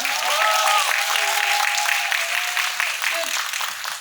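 Sustained applause from an audience at a film screening Q&A in Yongsan, a dense even wash of many hands clapping, with a voice speaking over it.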